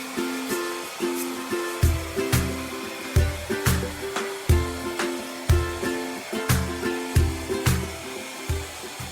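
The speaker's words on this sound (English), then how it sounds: "Take the hairdryer gun and dry it." A steady blowing whir of a heat gun drying wood runs throughout, with a rhythmic pulsing pattern, close and fairly loud, no voices.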